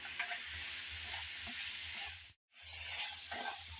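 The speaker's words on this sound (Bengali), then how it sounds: "এখন নেড়ে চেড়ে আবারও কিছুক্ষণ তেলের মধ্যে ভেজে নিয়েছি মিষ্টি কুমড়ার সাথে" Raw pumpkin with garlic and onion stalks is stirred in hot oil in a pan, giving a steady, faint sizzle with soft scraping stirs and a brief dropout, with no voices.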